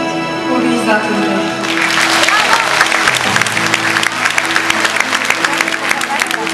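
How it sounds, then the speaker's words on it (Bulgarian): Large live festival audience breaks into loud, sustained applause with scattered cheers, building from music-like tones into dense clapping that fills the space. "поздравете с аплодисменти организаторите"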